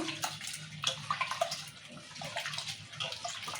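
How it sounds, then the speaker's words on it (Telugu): Red lentils are washed in a vessel under water, giving busy close splashing and swishing with irregular bursts of sloshing throughout. "రెండు సార్లు కడుకోవాలి బాగా పప్పు"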